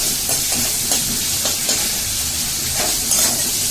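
Water poured into a pan of frying spice paste for a fish roe fritter curry sets off a loud, continuous sizzle and steamy hiss. Occasional stirring scrapes sound close by, and no voices are heard.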